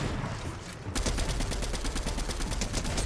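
Rapid bursts of automatic gunfire in a Fortnite firefight crackle on without a break after a quieter first second, loud and close, with no talk.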